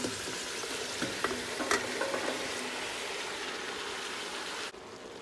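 Chopped mustard greens hit a hot pan of onions over medium-high heat, a loud sizzle with a few sharp crackles and stirring scrapes, then the frying settles into a steady hiss before dropping off abruptly.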